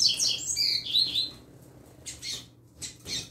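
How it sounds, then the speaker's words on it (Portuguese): A ruby-shouldered seedeater (coleiro) gives several bright, sharp chirps up close, first a busy burst of high calls, then a few shorter separated chirps after a brief pause. "O coleiro fica assustado na hora de ir embora, porque a fêmea é brava."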